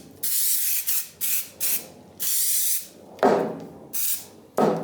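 Brake cleaner is sprayed onto an orbital sander pad in a series of short aerosol bursts, close, loud hissing blasts separated by brief pauses.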